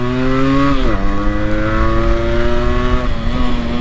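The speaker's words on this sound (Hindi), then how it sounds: "कुछ इस तरीके से होगी इंजन ब्रेकिंग" A loud motorcycle engine drops in pitch as it downshifts, the revs falling and holding under steady engine braking, with no talking.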